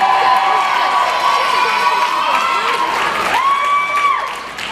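At a Mr. Mainland 2012 contest, a crowd cheers and applauds loudly and continuously, with shouts and whistles rising over the clapping before it begins to fade.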